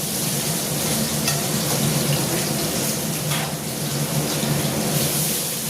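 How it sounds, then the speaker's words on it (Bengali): Bay leaves and ginger paste frying in hot oil, a steady close crackling sizzle with occasional spatters, continuous and even, with no talking. "দেখো দুটো তেজপাতা নিয়ে নিয়েছি, এটা আমি ফোড়ন দিচ্ছি। আর এর মধ্যে দেবো আমি একটু আদা বাটা।"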